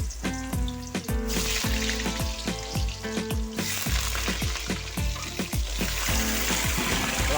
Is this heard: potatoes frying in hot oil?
yes